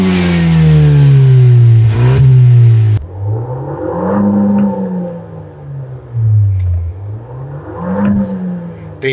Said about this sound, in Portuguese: o ronco desse motor é muito legal ouvido de fora e aqui de dentro